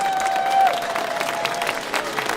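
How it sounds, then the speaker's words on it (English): An outdoor crowd at a Christmas carol concert in a town square applauds a carol soloist, a steady wash of clapping with a faint sustained tone running underneath. "So all turn, give her a nice big round of applause."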